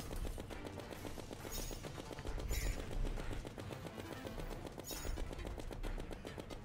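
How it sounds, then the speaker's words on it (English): Rapid automatic gunfire from a candy corn rifle in the Terraria video game, a dense fast rattle of shots running continuously at moderate level, with a few brighter bursts standing out and no voices. "Is that a nail gun? This is the candy corn rifle."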